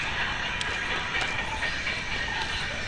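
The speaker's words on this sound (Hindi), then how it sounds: "ट्रेन की आवाज़ आ रही है।" A train passing by a station, with a steady, loud rolling rumble of wheels on rails and faint rhythmic clicks throughout, close by, with no voices.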